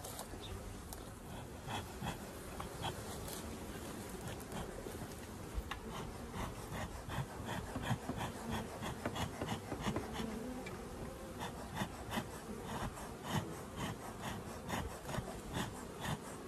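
Honeybees swarm around a hive being smoked with tansy against varroa mites, a dense, continuous loud buzz with many close wingbeat pulses and a faint rasping scrape underneath.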